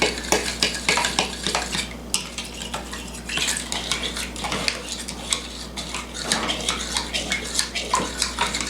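A spoon stirs roast ingredients around in a dish, clinking and scraping in a rapid, steady rhythm of close metallic knocks with no talking.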